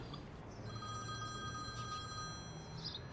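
A telephone ringing indoors with a bright, continuous electronic bell tone that pulses steadily at moderate volume over a low background hum.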